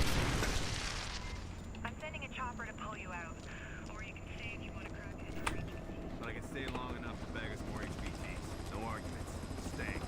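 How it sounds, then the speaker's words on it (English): A helicopter sound effect: a loud, steady rotor-and-engine roar running the whole time, with a voice talking over it. "I'm sending a chopper"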